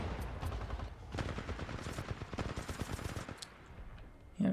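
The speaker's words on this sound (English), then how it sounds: "Yeah, because there's an enemy turret." An enemy turret in Titanfall 2 fires rapid automatic bursts, a steady machine-gun rattle that keeps going for several seconds at moderate distance and ends with a sharp thump.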